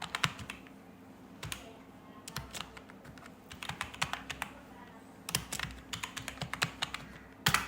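Typing on a computer keyboard, bursts of quick, close key clicks in uneven rhythm separated by short pauses, with a faint steady hum underneath and no talking.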